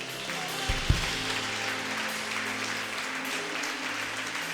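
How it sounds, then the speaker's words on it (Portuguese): A church congregation gives a sustained round of applause during a worship service, a dense wash of many hands clapping at an even level, with a couple of low thumps near the start and no speech over it. "Você pode dar uma salva de palmas ao Senhor?"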